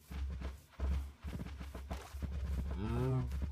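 Cows lowing in a survival video game, a drawn-out low moo rising near the end over muffled steps and movement sounds, close and moderately loud.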